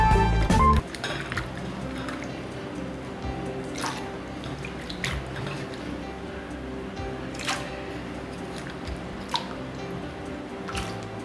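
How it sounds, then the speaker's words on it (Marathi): Cut potatoes for finger chips being washed in a bowl of water, with splashing and sloshing, irregular drips and a few wet clatters of pieces being moved by hand, close and fairly soft after a louder opening splash. "हे दुसऱ्यांदा मी परत एकदा धुते आहे बटाटे।"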